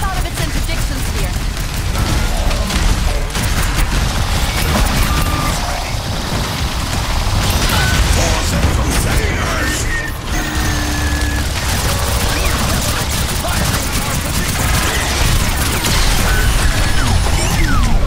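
A dense, continuous barrage of crashes, booms and mechanical clatter fills an Overwatch 2 match at high volume, with a huge explosion from shots at fuel cells in the mix and voices speaking over the chaos.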